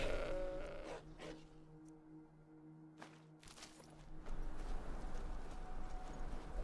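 A fire goat in the video game Enderal bleats amid game ambience, with sheep-like calls and hoof-like clopping over a steady background wash; there is no talk.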